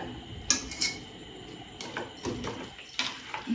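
A utensil stirs chilled milk cream in a pan while making ghee, giving quiet, irregular metallic clinks and scrapes against the pan, close up, with short pauses between strokes.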